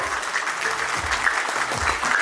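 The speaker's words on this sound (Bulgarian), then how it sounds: "време за вашите бурни аплодисменти за мъжа на вечерта" Guests at a 50th birthday celebration give loud, dense applause for the man of the evening, continuous clapping from a crowd with faint background voices.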